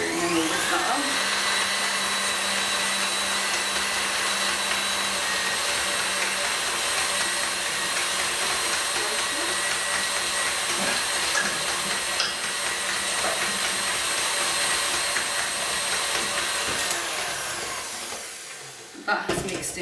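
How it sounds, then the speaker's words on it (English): An electric whisk whirs steadily and loudly for almost twenty seconds while mixing gluten-free, dairy-free chocolate cupcake batter, then cuts off near the end. "So then we'll whisk that up."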